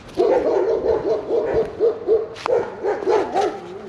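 Dogs barking and howling near a bridge on a walk toward Balgonie Castle in Coaltown of Balgonie, Scotland, a steady run of repeated yelps and hoots close by, with a sharper burst midway.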